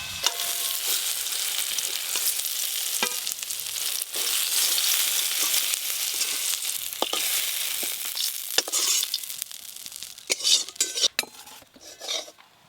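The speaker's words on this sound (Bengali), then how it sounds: "বেগুনগুলো হালকা করে ভাজা হয়ে গেছে" Eggplant pieces sizzle and fry in a pan in a home kitchen, a steady hiss with occasional scraping stirs and clinks of a utensil, growing choppier near the end.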